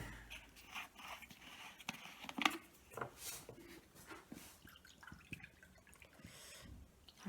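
Two glasses of water poured onto sand in a children's sand-dough craft, heard as quiet, uneven trickles and drips close by, with soft scattered splashes and no talking.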